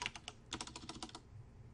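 Rapid bursts of typing on a computer keyboard while entering a command-line search, a quick run of close, crisp key clicks that thins out and stops after about a second.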